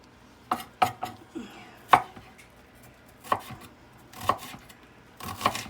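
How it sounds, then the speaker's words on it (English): A knife chops onions against a cutting board in about eight sharp, close knocks, some paired and others spaced irregularly with short pauses between, with no talking. "So you want to keep chopping like this."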